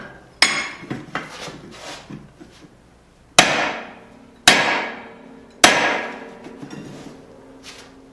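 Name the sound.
hammering a drift into a forged tomahawk eye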